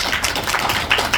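Scattered, uneven clapping from an audience at a Korean gathering, welcoming the president of the Korea Detective Association. It is a short burst of hands with irregular peaks, fairly close.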